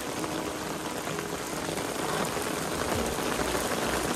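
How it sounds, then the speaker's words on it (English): Heavy rain pours down steadily during a storm, a dense, even hiss filling the whole stretch at close range with no voices over it. "That's raining even harder."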